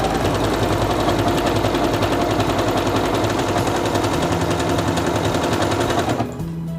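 A Singer Quantum Stylist 9960 computerized portable sewing machine stitching elongated stitches, a loud close rapid mechanical chatter running steadily for about six seconds before stopping abruptly, leaving a faint hum.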